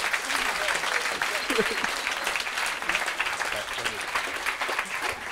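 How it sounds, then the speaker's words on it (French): A comedy club audience applauds steadily, clapping and cheering at moderate volume, with voices mixed into the ovation. "on peut les applaudir bien fort"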